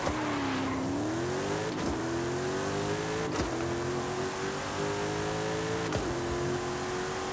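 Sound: Toyota Camry accelerating hard in video game Forza Horizon 5

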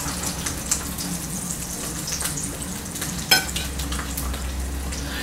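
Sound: egg frying in a pan

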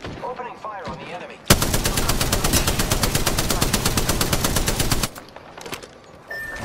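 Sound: gunfire in video game Apex Legends

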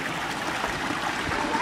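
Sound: flowing stream water

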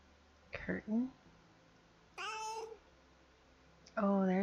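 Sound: cat meowing

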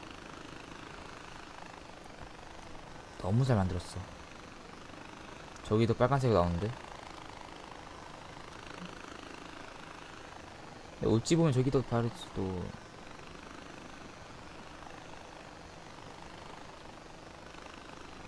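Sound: helicopter in Far Cry 4 video game

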